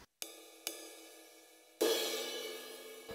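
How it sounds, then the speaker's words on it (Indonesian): Ride cymbal with reverb on an EF-Note Pro electronic drum kit: two light pinging strikes with sustained metallic ring, then a harder, brighter hit that shimmers on. "Ini simbal ride tapi ada revetnya gitu."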